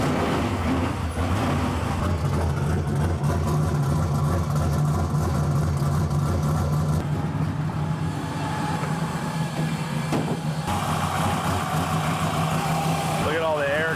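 A BMW drift car's engine idles and revs steadily while its cooling system is bled of air, a constant low mechanical drone with people talking nearby over it.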